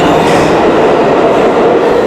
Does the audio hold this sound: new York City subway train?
yes